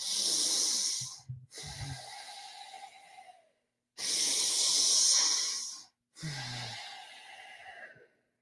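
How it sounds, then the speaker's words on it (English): Deep, forceful breaths during a breathwork session rush in and out in long hissing pulls of a few seconds each, separated by short pauses, close and loud with no talking. "Maybe you notice I'm breathing in through my nose. I'm breathing out either through my nose or my mouth."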